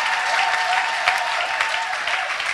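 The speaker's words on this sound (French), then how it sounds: "Je dis acclamez Dieu pour le pasteur, fort, fort." Steady, loud applause from a church congregation clapping for the pastor, a dense continuous patter of many hands with no voices standing out.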